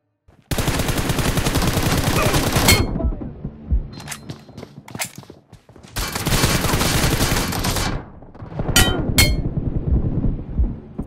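Rapid bursts of automatic gunfire from a shooting video game, loud sustained volleys with short pauses and a few sharp single shots between them, no talk.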